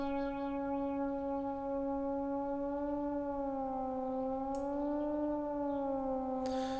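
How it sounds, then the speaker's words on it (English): An Arturia Mini-V software synth holds a single steady note, with frequency modulation applied to VCO2 making its pitch waver gently. The tone is rich in harmonics and loud, with no talk over it. "there's a tiny amount of frequency modulation being applied."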